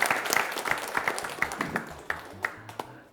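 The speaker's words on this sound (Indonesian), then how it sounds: "Kita kasih tepuk tangan untuk Regu A." A crowd claps and applauds steadily for about three seconds at a high school quiz competition, dense and lively, fading slightly toward the end.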